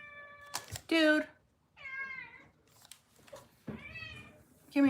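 A cat meows loudly several times in drawn-out calls, close by, with a voice speaking briefly between the meows.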